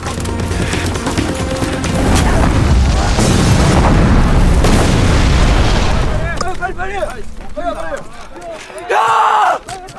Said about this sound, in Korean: 진태는 빗발치는 총알 사이를 뚫고 적진 무기고를 탈환해 국군을 승리로 이끌게 되죠